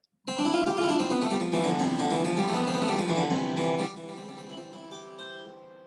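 A harpsichord plays a bright, plucked passage of quick notes, ringing alone before dropping to a softer, thinner texture near the end.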